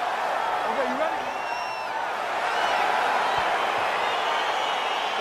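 Arena crowd in the UFC 4 video game, a fight between Bruce Lee and The Gladiator, giving off a steady, moderately loud wash of cheering and murmur with a few whoops, running continuously under commentary.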